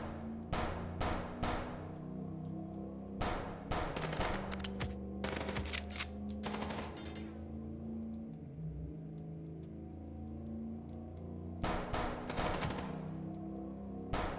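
Gunfire in Chicken Police comes in sharp clustered bursts of shots over a steady car engine hum, separated by quieter stretches of driving, with no talking.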